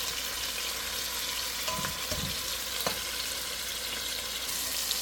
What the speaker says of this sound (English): I'm browning the pork.